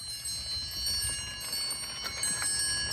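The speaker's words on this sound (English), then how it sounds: "their bells would ring and they would come running for the ice cream" Bright, steady bell tones ring continuously, like an ice cream truck's chimes, with a low rumble of traffic or engine underneath.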